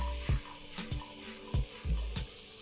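Diced carrots and potatoes sizzle in a hot pan and are tossed several times. Each toss lands as a soft thump with a burst of sizzling, over a low steady hiss.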